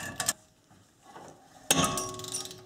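A brake rotor breaks free under a puller turned with a ratchet handle fitted with an extension for leverage: light metallic taps early on, then a sudden sharp metal clang followed by ringing and clatter, close and loud.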